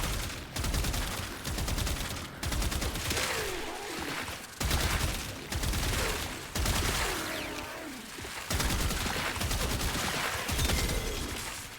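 Repeated bursts of rapid weapon fire from Warframe's alt fire mode, loud and close, in clusters of about a second or two separated by brief pauses; no talk.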